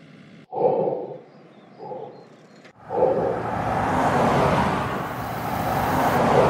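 Steady road noise inside a moving car, a low broadband rumble that swells and holds after a couple of brief bumps early on.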